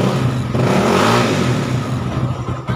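A Yamaha Mio Mxi 125 scooter engine runs steadily at close range, its loud, continuous drone swelling briefly as if revved, with no talk over it.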